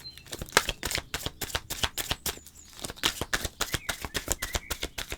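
Rapid, rhythmic riffling of tarot cards being shuffled close up, crisp repeated flutters with a brief pause in the middle.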